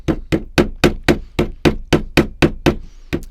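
A small pointed hammer taps tin in a steady rhythm, about a dozen sharp, ringing strikes evenly spaced, close up with no talking.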